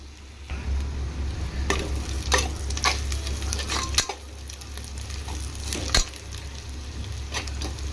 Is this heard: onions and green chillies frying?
yes